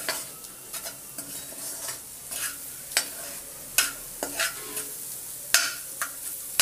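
Green chilies fry in a pan while being stirred, with a low sizzle under repeated sharp scrapes and taps of a spoon against the pan at irregular intervals, close and fairly loud.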